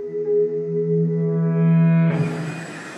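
An aircraft takes off from the Ajaccio base in Corsica: a loud, steady whining drone of layered tones, then a sudden broad rushing roar that surges in for the final second, with no voices.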